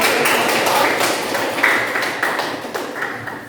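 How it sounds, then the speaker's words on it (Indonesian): Applause for two student groups in a ninth-grade junior high classroom, a dense, steady patter of many hands clapping together that fades slightly toward the end. "Kita beri aplaus dulu untuk kedua kelompok."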